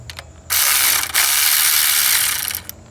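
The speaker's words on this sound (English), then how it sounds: "we're going to break loose both of these 12mm that hold the power steering on" A ratchet spins loose the 12mm bolts holding the power steering pump on a 1994–2001 Acura Integra, a loud, close, steady pawl clatter running about two seconds with one brief break.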